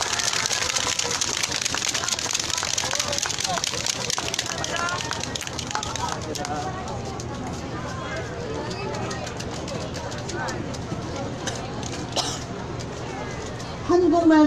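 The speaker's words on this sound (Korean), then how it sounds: "여러분 다시 한번 박수 드리도록 하겠습니다" An audience at an outdoor Wednesday protest rally over Japanese military sexual slavery claps in a dense, loud burst for about six seconds. The applause then thins to scattered claps under the murmur of the gathering, and a voice cuts in at the very end.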